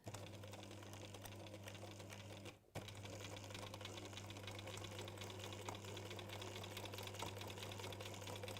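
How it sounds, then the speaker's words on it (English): An older sewing machine stitching a line across fabric, its steady motor hum and rapid needle chatter running continuously, with a brief pause near the start before it resumes. "We're just going to sew across there. Like so. That's quite good fun actually, sewing on an older machine."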